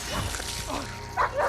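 A dog whimpers and yips in a scene from the superhero film Kick-Ass 2, brief high whines rising over a murky background of movie sound.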